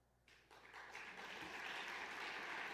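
Clapping begins sparsely and quickly builds into steady, full applause from the audience at a 2025 State of the City address, heard somewhat distant and with no talking over it.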